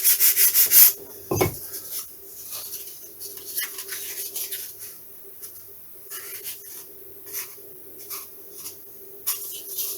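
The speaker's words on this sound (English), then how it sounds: "Just going to sand the back edge there and front edge very slightly." Hand sanding on the back and front edges of a 1/6 scale Tiger Moth model gives repeated close rubbing strokes in short uneven bursts. A few sharp taps and a brief thump come near the start, with no talking.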